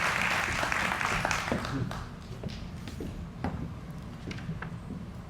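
An audience applauds to welcome two mayoral candidates at a 2022 forum. The clapping is dense and loud at first, then thins into scattered claps and taps.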